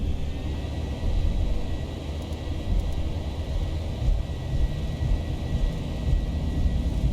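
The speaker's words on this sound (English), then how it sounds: "we set the takeoff thrust manually" Boeing 737 jet engines wind up toward takeoff thrust, a deep, steady roar and rumble heard from inside the cockpit, fairly subdued and unbroken throughout.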